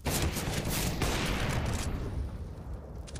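Rapid gunfire bursts in Counter-Strike during a professional match round, a dense, loud fusillade of shots for about two seconds that then thins and fades.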